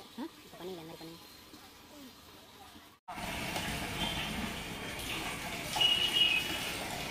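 Water pours into a tank with a steady splashing rush that starts abruptly after a brief cut, continuing loudly; voices talk faintly in the first part before the flow takes over.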